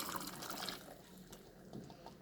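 Boiled ghugni matar peas poured along with their cooking water into a pan of potatoes and masala give a close, splashing liquid pour that trails off into softer trickles and light clatter.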